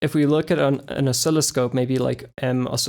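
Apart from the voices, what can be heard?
No distinct noise like a dog, phone or traffic.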